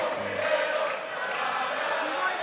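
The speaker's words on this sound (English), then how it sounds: "the crowd are rowdy" Rowdy crowd noise at a boxing match, a steady dense roar of many voices sustained without a break through the clip, fairly loud and close throughout.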